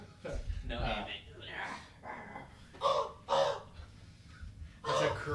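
A man imitates a crow with a series of loud, rough, nasal caws in uneven bursts, close to the microphone, separated by brief pauses.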